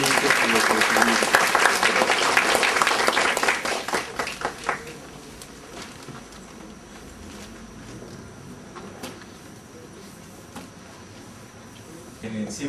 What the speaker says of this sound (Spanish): vamos a pedir un fuerte aplauso para recibir realmente el reconocimiento.